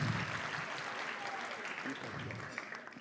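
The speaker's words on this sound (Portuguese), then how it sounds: "Vamos aplaudi-los." An audience claps for award winners at a writing and drawing prize ceremony, a sustained round of applause at moderate distance, with a few faint voices in the crowd.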